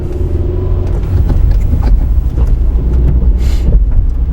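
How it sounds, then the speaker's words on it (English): A manual car pulls away from the clutch friction point in first gear with light throttle, giving a steady, close engine rumble mixed with wind noise on the microphone. "out to the friction point, a little bit of throttle, and we go"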